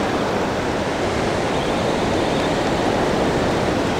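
Ocean surf breaks on Muriwai beach during surfcasting, a loud, continuous wash of wave noise that fills the whole stretch without pause or voices.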